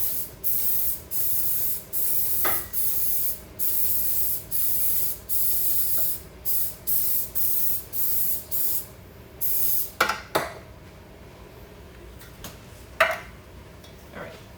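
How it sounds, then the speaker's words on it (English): Cooking oil spray released over a kitchen sink in a steady rhythm of short, loud hissing bursts, about a dozen in a row. A few light clinks and taps follow once the spraying stops. "I always spray it over the sink because it's easy to clean up instead of creating oil around my stove or on my counter"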